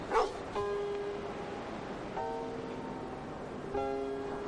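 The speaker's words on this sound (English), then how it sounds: "Hey, you old mutt! Where the hell do you come from?" A big dog lets out a few drawn-out, tonal whines and yelps, three separate cries spaced about a second and a half apart over a steady background hiss.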